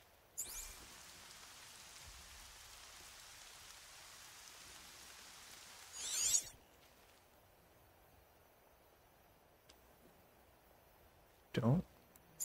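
Steady light rain in Horizon Zero Dawn patters softly throughout, with a couple of brief louder bursts breaking through the quiet, even hiss.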